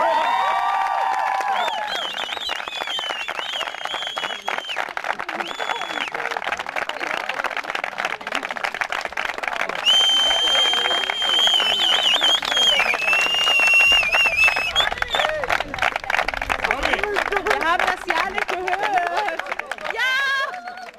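Crowd of spectators applauding and cheering after a marriage proposal is accepted, dense clapping and whoops mixed with babble and a voice talking over it, continuing for around twenty seconds.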